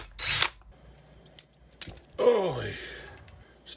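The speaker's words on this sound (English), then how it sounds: "I've got a 3/16 inch drill bit, and I just wanna take off the end of the rivet" A 3/16 inch drill bit cuts off the end of a rivet on a Lionel ZW transformer in several short, close power-drill bursts, with quiet gaps between them and a longer whining run near the end.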